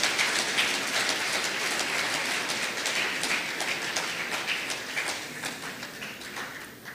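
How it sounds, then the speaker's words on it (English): A lecture audience at a St. Kitts and Nevis independence event applauds, a dense, even wash of many hands clapping that holds steady and slowly fades toward the end. "everyone, a round of applause"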